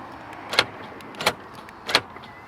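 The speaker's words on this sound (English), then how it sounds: "if you lock and unlock," Door locks on a 2024 Mercedes-AMG G63 4x4 Squared clack shut and open in three sharp, evenly spaced thunks, each a brief mechanical snap standing alone against a low background hiss.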